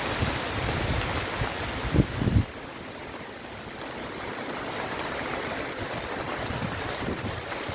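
Strong stormy wind blows in gusts, tearing through banana leaves, with a loud buffeting rush and a couple of sharp bumps early on, then a steadier, slightly quieter roar.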